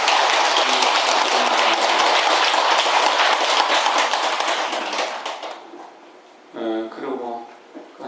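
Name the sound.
applause for a monk at temple service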